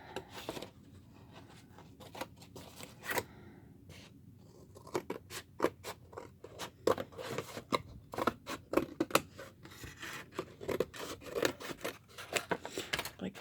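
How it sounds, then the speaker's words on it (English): Scissors snip around a paper template for an altered rolodex book, close and irregular crisp cuts with rustling paper between them, speeding up into quick bursts of snips. "I'm just going to use this piece as a template to just kind of cut around."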